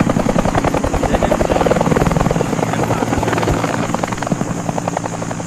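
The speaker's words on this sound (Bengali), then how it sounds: "মোটরসাইকেল দিয়ে হেলিকপ্টার তৈরি করছে" A homemade helicopter built from a motorcycle drones with a steady, loud rotor-and-engine chop that pulses evenly throughout, close by and unbroken.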